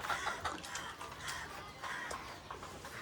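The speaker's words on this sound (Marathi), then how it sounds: "हे बघा इथं पण कोंबडे आहेत" Chickens and roosters cluck in a village, in a scatter of short, fairly faint calls at a distance over steady background noise.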